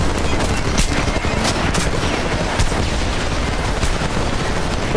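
Dense, continuous machine gun fire in the Homefront video game, sustained bursts and overlapping shots filling the whole stretch at steady loudness, with a faint voice under the gunfire.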